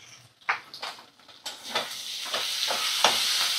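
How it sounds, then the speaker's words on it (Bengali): Ginger-garlic paste, cumin paste and Kashmiri chilli powder sizzle and hiss in hot oil as they are stirred, with soft scraping strokes and a steady frying crackle that builds and stays fairly close. "মশলাগুলো ভালো করে কষিয়ে নেব।"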